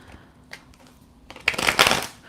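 A deck of reading cards is shuffled close up, with a few soft taps and then a loud riffling burst near the end.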